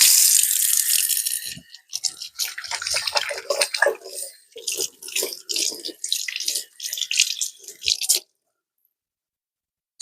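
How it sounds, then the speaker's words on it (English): A kitchen tap runs hard as hands are rinsed of egg under the stream, with splashing and rubbing sounds, then the water shuts off abruptly into silence. "Let me toss these and wash my hands"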